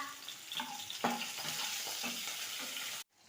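Chopped shallots sauté in hot oil for fish curry, crackling in a soft continuous sizzle as a spoon stirs them with light scraping knocks against the pan.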